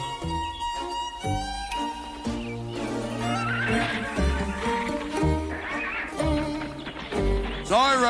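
A horse neighs and whinnies in an animated adventure series, its call rising sharply near the end over a dense, continuous bed of music.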